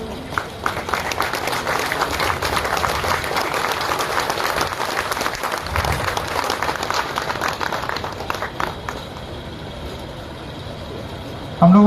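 Audience applause at a divisional-level horticulture exhibition in 2023, a steady broad wash of clapping lasting most of the stretch and tapering off toward the end, with some background speech.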